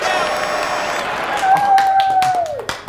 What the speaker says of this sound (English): you all need to applaud. You need to go crazy.